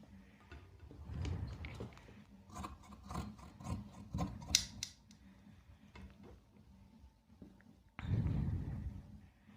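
Scissors cut through fabric for a baby frock sleeve in short, close snips and rasping slides. The strokes come in irregular bursts, with a louder run of cutting near the end.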